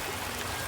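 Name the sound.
water flowing in Clear Creek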